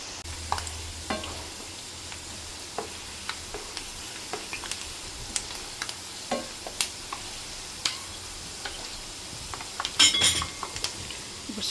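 Prawns frying for pickle in a pan, with a spoon stirring and clinking against the metal at irregular intervals over a soft steady sizzle, close and fairly quiet.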